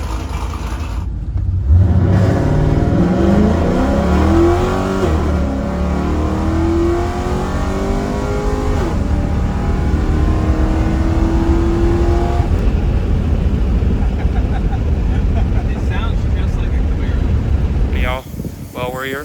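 Chevrolet Caprice police car, dyno tuned to 414 wheel horsepower, revving hard on a street drive, its loud engine rising and falling through gears from close by, steady throughout until it eases near the end.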